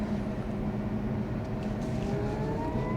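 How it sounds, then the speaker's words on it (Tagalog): Steady whirring motor hum of a Bestune Pony Mini EV electric car while driving, a continuous moderately loud drone inside the cabin with a faint rising whine. "yung motor noise niya malakas din"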